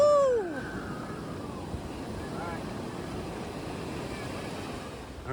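Ocean waves wash steadily onto Sand Beach in Acadia National Park, a broad continuous surf roar mixed with wind buffeting the microphone, with faint voices in the background.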